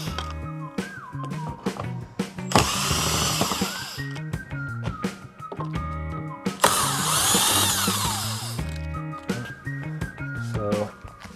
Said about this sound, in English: Now we're going to grab our 10 mil and take off all three of these bolts.